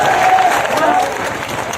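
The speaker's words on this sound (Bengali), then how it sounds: "ওনার জন্য একটা হাততালি আমি আশা করি" Short burst of crowd applause at a public gathering where a speaker is addressing teachers, with a voice carrying over the clapping as it fades slightly.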